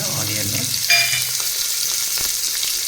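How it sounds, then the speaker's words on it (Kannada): Chopped onions sizzle steadily in hot oil in a pan for vegetable pulao, with a light scrape of stirring partway through, close and continuous with no voices. "ಆನಿಯನ್ ಸ್ವಲ್ಪ ಫ್ರೈ ಆಗಲಿ. ಗೋಲ್ಡನ್ ಬ್ರೌನ್ ಬರೋ ಥರ."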